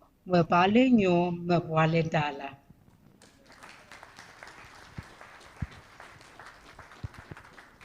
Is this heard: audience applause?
yes